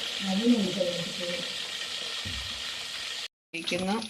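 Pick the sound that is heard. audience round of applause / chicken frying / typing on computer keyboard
chicken frying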